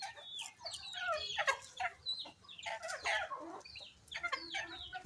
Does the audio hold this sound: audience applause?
no